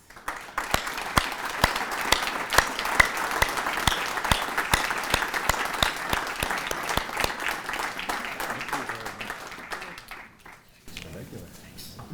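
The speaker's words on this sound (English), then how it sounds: "let's have a round of applause for all of our award winners." Sustained applause from an audience at an architecture awards ceremony marking an anniversary celebration, steady dense clapping with scattered sharper claps that fades out near the end.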